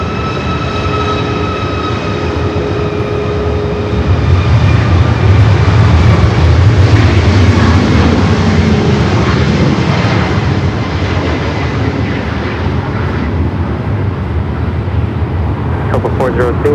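A Copa Airlines airliner takes off at LAX, a steady, loud jet engine roar with whining tones that swells slightly midway, heard from nearby without a break.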